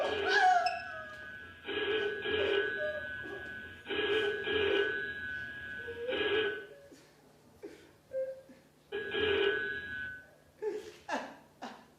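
A telephone rings during a stage play: several bursts of an electronic trill, each lasting about two seconds, repeat with short pauses between them. Voices and other sounds come in during the gaps.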